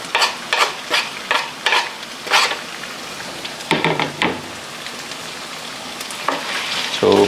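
Chicken teriyaki is stirred in a hot frying pan, with a string of rhythmic scraping strokes over a steady sizzle, a pause, then a few more stirs close by with no talking.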